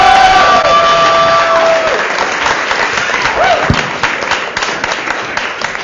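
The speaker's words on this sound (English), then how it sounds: "Clap it up for Tristan Schaefer Goldman!" A comedy club audience applauds and cheers as a stand-up comedian takes the stage, a dense, loud wash of clapping with some whoops that gradually tapers off.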